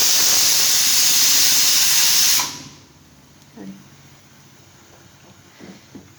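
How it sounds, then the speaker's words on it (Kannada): A pressure cooker on a home stove blows off steam in a loud, continuous hiss for a couple of seconds, then cuts off abruptly, leaving quiet kitchen noise with a few faint clinks. "ವಿಷಲ್ ಆಗಿಸ್ತಿದ್ದೀನಿ ನಾನು."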